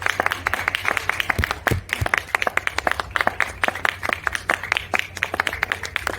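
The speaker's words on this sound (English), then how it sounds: "I think we should give Samantha a word of applause for sharing these words and this journey with us." Clapping from a small audience at an eisteddfod talk, crisp, close individual handclaps in an uneven patter rather than a dense roar, continuing steadily throughout with a low background hum.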